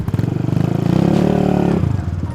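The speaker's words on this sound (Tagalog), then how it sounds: "Oh motor na kagad." A motorcycle engine idles and revs for a trail ride, a loud close rhythmic putter that swells briefly before settling back.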